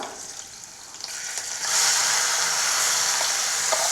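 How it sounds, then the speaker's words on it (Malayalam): Marinated prawn pieces hit a hot pan and fry, the soft sizzle jumping to a loud, steady hiss that holds to the end with small crackles. "അപ്പോൾ ഇനി അതിലേക്ക് നമുക്ക് മസാല പിടിപ്പിച്ച് വെച്ച ചെമ്മീൻ്റെ കഷ്ണങ്ങളൊക്കെ ഇട്ട് കൊടുക്കാം"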